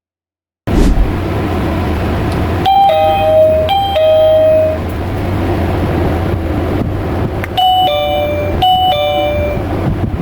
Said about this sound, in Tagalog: plug in lang sa saksakan, mamili ng chime, i-adjust ang volume